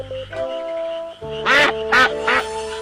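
A few loud, nasal duck quacks in quick succession, close by, over a steady tonal hum in the background.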